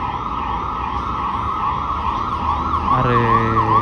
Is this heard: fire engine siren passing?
yes